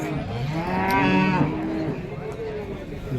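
A Jersey cow at a cattle market in Seenapuram moos in one long, loud, close call that rises and fades, over steady crowd and market background noise.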